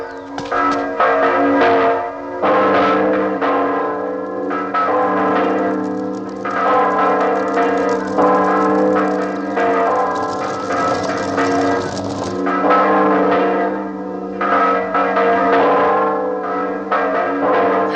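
Bells ring continuously with rich, layered tones, loud and close, overlapping strikes sustained throughout with only slight dips in intensity and no talk.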